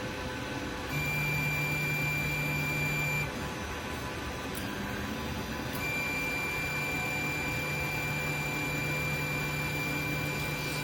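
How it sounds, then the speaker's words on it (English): A TENLOG 3D printer printing on a heated borosilicate glass bed, giving a steady faint motor whir with sustained tonal hums that shift as moves change, close and continuous with no talk. "now that the bed has reached this temperature, we'll get to printing the print."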